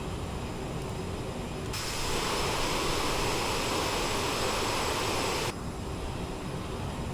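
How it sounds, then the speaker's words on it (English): Wind noise rushes over the airframe of a Lufthansa CRJ regional jet in MSFS 2024, a steady broadband hiss that swells loudly in the middle, then drops back to a quieter cabin hum. "That wind noise on the airframe is so annoying."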